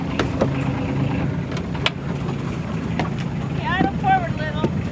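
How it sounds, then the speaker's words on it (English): A boat's engine idles in gear, moving slowly forward while the anchor is pulled up off Catalina Island; a steady low drone runs under wind noise, with brief squeaky tonal sounds near the end. "I'll bump it into gear and we'll just idle forward."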